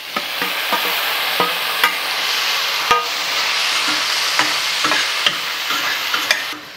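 Tomatoes are added to onions frying in a pan and then stirred, with a loud, close, continuous sizzle broken by repeated sharp scrapes and knocks of the utensil.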